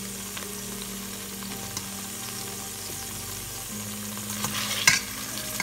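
Pepper steak fries in a pan with a continuous close sizzle, a faint hum underneath and a brief clatter of stirring near the end, with no talking.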